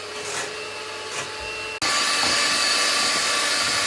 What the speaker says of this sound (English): You can use your own whisk, you can put it in the blender, however you want, just to whisk up the cream.